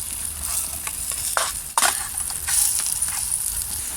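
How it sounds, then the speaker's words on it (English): A couple of hash browns fry in hot oil on a small outdoor bushbox stove, giving a continuous bright hiss. A clunk of the food or pan is heard partway through, and there is no talking. "That oil's hot already. A couple of hash browns."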